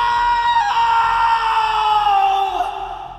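Lightning McQueen from Cars lets out a loud, sustained animated scream that holds for about three seconds before tapering off, with a low rhythmic pulse underneath.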